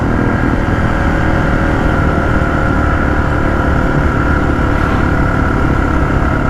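A Honda XR650L motorcycle engine drones steadily and loudly while being ridden, a constant close-up roar mixed with rushing wind noise that never lets up.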